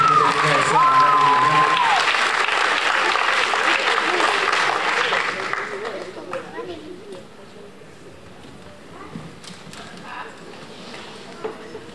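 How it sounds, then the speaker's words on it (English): Applause from the audience at a school winter choir concert, strong at first and then tapering to scattered claps after about five seconds, with a voice briefly audible early on. "y'all give them one more round of applause as we get ready for the next song"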